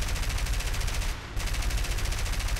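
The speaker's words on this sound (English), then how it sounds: "have you noticed the machine guns on that thing?" Aircraft machine guns fire in War Thunder, a loud, dense, unbroken rattle of rapid shots lasting a couple of seconds with a brief dip in the middle.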